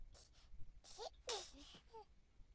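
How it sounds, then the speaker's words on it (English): A Sim in The Sims 4 gives a small, cute sneeze, heard as a few short breathy bursts with little vocal squeaks around it. "Oh, that was cute, that little sneeze."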